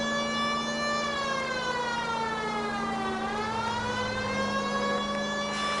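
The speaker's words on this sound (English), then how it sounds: "Can I turn on my siren?" A police car siren in the video game L.A. Noire wails, sweeping steadily up and down in pitch, loud and continuous, over a low engine hum throughout.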